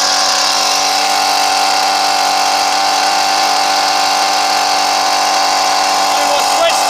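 A Ryobi full-crank 2-cycle weed eater engine running loud and close after starting on half choke, a steady buzzing high-pitched drone with strong harmonics holding an even idle throughout.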